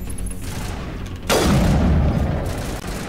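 A loud, close, sharp blast of sniper rifle fire in Mass Effect Legendary Edition, hitting suddenly mid-clip after a quieter stretch, with a rumbling tail and dense noisy combat ambience.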